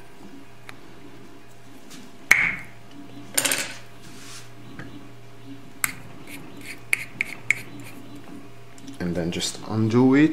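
A brass nut on a Gaggia Classic espresso machine steam valve gives a single sharp metallic crack as it breaks loose, followed by scattered small clicks and tool taps while someone talks nearby.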